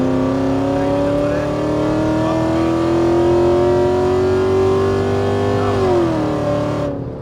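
A 3-litre BMW engine in sport mode revs and holds a strong, steady drone close by, pitch climbing slowly before dropping near the end.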